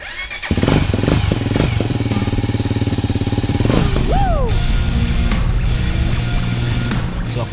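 Motorcycle engine running for a ride from Kuching Airport to Matang in Borneo, a loud steady close rumble that revs up and then settles, no talk.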